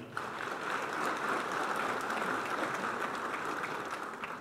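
Steady, dense applause from an audience at a formal Indonesian event welcoming the president, continuing evenly throughout without voices on top.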